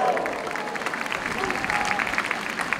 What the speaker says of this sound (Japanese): 皆さんどうぞ大きな拍手をどうぞ。